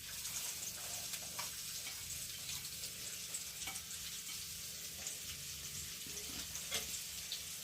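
Onion frying in a pan while making Maggi in a village home kitchen, a soft continuous sizzle with occasional stirring scrapes, fairly quiet.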